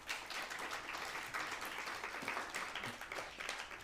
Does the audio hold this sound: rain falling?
no